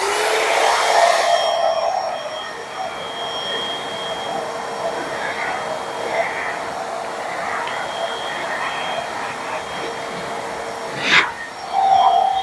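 A shop vacuum runs steadily through a modified Dust Deputy low profile cyclone separator, a loud continuous broadband whoosh with a faint whine, briefly spiking near the end.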